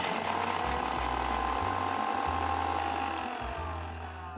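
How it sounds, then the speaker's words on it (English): A mixer grinder coarsely grinding roughly chopped green chilies, garlic cloves and ginger gives a loud, steady mechanical whir with rattling, pulsing as the motor runs, fading slightly near the end. "Just grind all these 3 ingredients coarsely."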